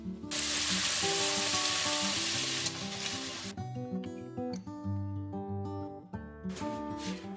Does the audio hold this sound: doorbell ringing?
no